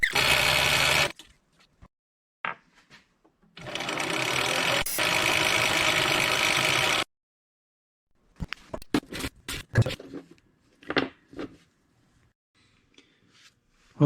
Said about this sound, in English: Now we're going to chuck this back up in the lathe and turn this down all the way across.